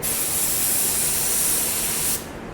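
A cheap Harbor Freight paint spray gun hisses in one loud, steady burst for about two seconds, then cuts off, leaving a faint background hiss.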